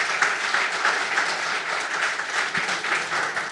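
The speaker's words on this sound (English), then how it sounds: "So big round of applause for all of you for taking the time to be with us today." An audience at a Synaptics tech day event on edge AI gives a round of applause, steady dense clapping from many people filling the whole moment without speech.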